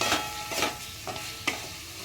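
Mutton with spices is stirred in a pan, a few scraping strokes of the spoon over a soft continuous sizzle, close and quiet with no talking.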